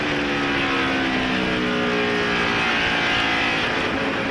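NASCAR stock cars at the 2002 Checker Auto Parts 500 roar continuously around the track, a dense, loud wash of engine noise with no break.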